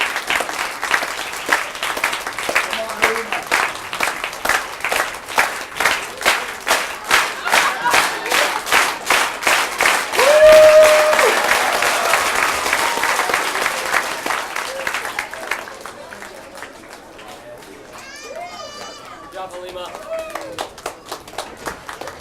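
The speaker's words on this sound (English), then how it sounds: "Keep clapping." An audience at a school award ceremony claps in a loud, fast rhythmic burst that swells, then thins out into scattered claps while a voice talks over it near the end.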